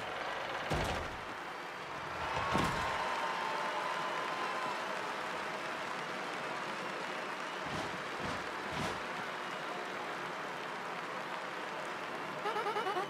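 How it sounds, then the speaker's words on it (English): A cheering crowd fills the arena of a wrestling-style ring fight in the video game Paper Mario: The Thousand-Year Door remake. The roar is steady and loud, with a few sharp bursts. "The excitement among the crowd has reached a new peak."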